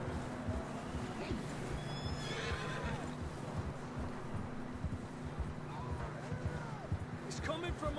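Horses in Red Dead Redemption 2 whinny and neigh repeatedly over steady clip-clop hooves and a droning game soundscape, with voices talking in between.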